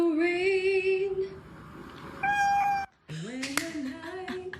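A pet cat meows in long, drawn-out tones alongside a woman singing a medley of songs. Several sustained, bending calls come close and fairly loud, with a short silent gap near the end.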